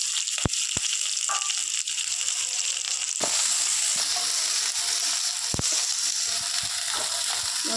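Chopped onion fries in a pan for ladyfinger palya, a constant close sizzle that grows brighter partway through, with a few sharp clicks and scrapes of stirring.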